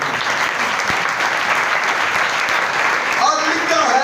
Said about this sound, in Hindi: उसके जलाल के लिए तालियां तो होनी चाहिए।